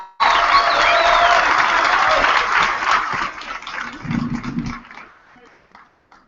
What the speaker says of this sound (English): Another round of applause for Isaiah as he leaves the stage.